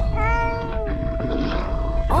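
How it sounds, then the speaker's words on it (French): A cat meows in The Incredible Adventures of Van Helsing 3 game, one drawn-out, rising-then-falling meow up close over steady background game music and ambience, followed by a brief voice. "le petit chat. Fameux miaou."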